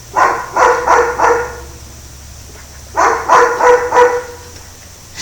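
A small dog barks nearby during an indoor yoga class, with two quick bursts of about four sharp, loud barks each, separated by a short quiet gap.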